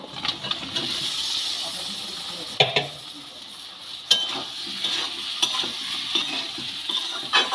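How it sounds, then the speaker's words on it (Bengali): Boiled jackfruit frying with onions and spices crackles and hisses under repeated stirring, with occasional sharp clicks of a spoon on the pan close up. A faint voice is briefly present. "পেঁয়াজের সাথে কষিয়ে নেব সিদ্ধ করে রাখা এঁচড়গুলো মশের সাথে মিশিয়ে দেব"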